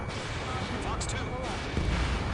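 A fighter jet missile launch in Ace Combat 7, a dense roaring rumble with a burst of whooshing noise, heard under continuous radio chatter and cockpit alerts.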